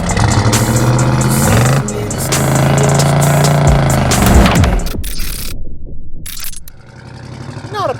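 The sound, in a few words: 1976 Chevrolet C10 454 big block truck on test drive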